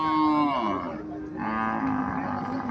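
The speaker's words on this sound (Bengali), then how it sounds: "এখানে আরো একটা গাভী দেখা যাচ্ছে" A Friesian dairy cow lows at a cattle market in one long, loud, close moo lasting nearly three seconds, with a slight dip partway through, standing alone without voices.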